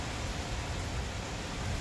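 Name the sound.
heavy rain during a storm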